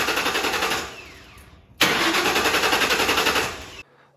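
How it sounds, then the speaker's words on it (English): A Ford Mustang engine cranks and fires up, falls away briefly, then restarts and settles into a loud, steady running rumble with a rhythmic pulse before cutting off abruptly. "Start the car and run it until it stalls."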